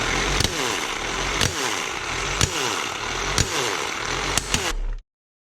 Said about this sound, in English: I'll just get my impact wrench and we'll do this up tight.